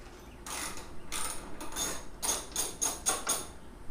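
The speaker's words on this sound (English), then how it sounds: "You have a 12 millimeter. You have two bolts on that hood there." A 12 millimeter bolt with a washer is tightened on the hood of a Mitsubishi Evo X with a ratchet, giving a run of quick, faint clicking strokes that speed up toward the end.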